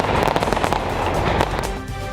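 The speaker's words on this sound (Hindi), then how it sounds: "इसके बाद आतिशबाजी ने नए साल के जश्न में चार चांद लगा दिए।" New Year fireworks bursting in Germany, a dense continuous crackle of overlapping pops and bangs, loud and close, with no gaps across the whole stretch.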